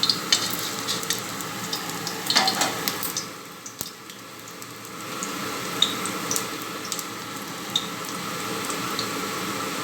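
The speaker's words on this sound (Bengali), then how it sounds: "আঁচটা সিম করে দিয়ে খুব আস্তে আস্তে করে সুন্দর করে ভাজতে হবে, যাতে লাউটা সেদ্ধ হয়ে যায়" Bottle gourd slowly fries in a moderate amount of oil over low heat, giving a steady soft sizzle and crackle with brief stirring clatters near the start and no talking.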